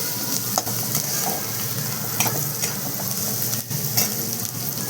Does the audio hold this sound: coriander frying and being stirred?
yes